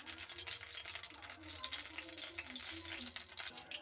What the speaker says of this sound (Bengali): তেল দিয়ে অল্প একটু হলুদ গুঁড়ো দিয়ে দিচ্ছি।